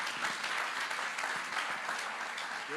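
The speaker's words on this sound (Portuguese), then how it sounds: "Vamos receber a irmã Andréia com aplauso ao Senhor nesta hora." A church congregation applauds to welcome a speaker at an evening service, a dense, even wash of clapping from many hands with no voices on top.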